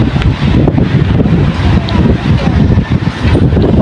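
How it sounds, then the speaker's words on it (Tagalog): Strong wind buffets the microphone continuously outdoors in Münster, Germany, a loud low rumbling roar with gusty fluctuations throughout. "tingnan mo naman ang lakas ng hangin"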